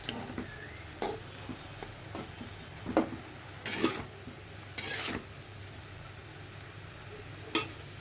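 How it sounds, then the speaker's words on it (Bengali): Vegetables with a pinch of turmeric stirred in a pan: soft, irregular scrapes and light taps of the spoon against the pan, a few louder scrapes spaced a second or so apart over a quiet background hiss. "এখন আমি এগুলোকে নাড়াচাড়া দিয়ে সুন্দর করে মিশিয়ে নেব।"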